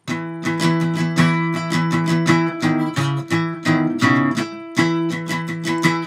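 Guitar riff played at full speed, a quick run of picked notes and chords with sharp attacks and short gaps, loud and alone.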